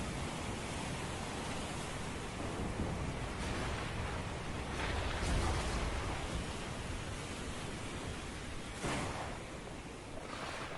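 An animated storm at sea with rain as a ship sinks: steady, faint broadband roar of wind, rain and surf throughout, with a couple of soft surges but no distinct thunder claps.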